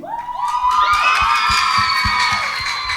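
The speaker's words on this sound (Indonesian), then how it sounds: "Boleh kasih tepuk tangan dulu." An audience at a Christmas celebration cheers and whoops loudly for panelists, with high shouted voices and scattered claps running continuously for about three seconds.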